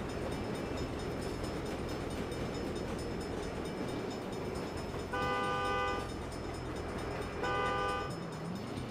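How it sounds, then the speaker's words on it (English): A train in the video game Saints Row rumbles steadily while its horn blasts twice, a long tonal blare followed by a shorter one, over continuous low rolling noise. "Hell of a time for a train."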